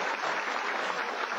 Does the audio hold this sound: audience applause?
yes